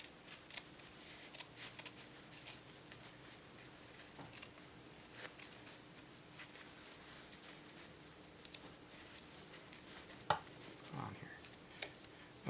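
Scissors trim the fabric of a dress facing in a quiet room, with soft repeated snips and crisp blade clicks at an irregular pace and no talking.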